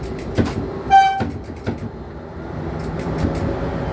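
A train horn sounds a short blast amid rumbling rail noise and clanking, with intermittent knocks as a locomotive shunts nearby on its way to be refueled.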